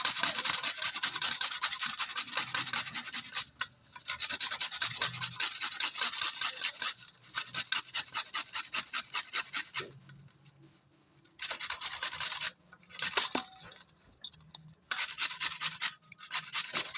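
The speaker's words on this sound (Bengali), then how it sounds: "দেখো আলুগুলোকে এটার মধ্যে ঘষে নেব।" Cut potatoes are rubbed against a grater in quick rhythmic bursts of raspy scraping strokes, each run lasting a few seconds with short pauses between, close and fairly loud.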